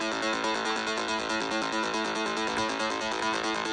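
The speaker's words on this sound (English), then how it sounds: "for the actual bass line itself, all I've played is the octaves" Synth bass line in Ableton playing octave jumps, a steady, loud, buzzy pulsing pattern alternating between low and high notes, with no voices.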